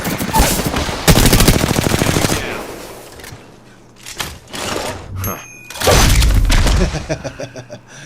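Loud automatic gunfire from Apex Legends gameplay, rapid bursts of shots in several long volleys separated by brief pauses, close and dominant, with other game sounds between.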